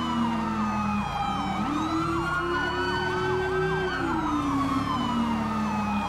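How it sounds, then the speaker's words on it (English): Emergency vehicle sirens wail continuously in a police patrol setting, several overlapping tones sweeping up and down over a steady engine drone, loud and close throughout with no talk. "No one's listening to sirens though, which is getting a little jank."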